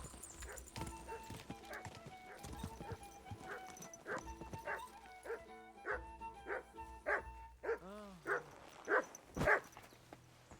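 Dog barking amid horse hooves clip-clopping in Kingdom Come: Deliverance II, a medieval open-world game; repeated loud barks and yelps grow stronger toward the end, with a horse's whinny and faint game ambience.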